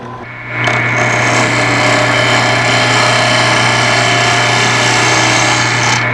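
A wood lathe spins a workpiece while a cutting tool bounces against the not-yet-round wood, making a loud, steady motor whine with rough scraping over about six seconds and no talking.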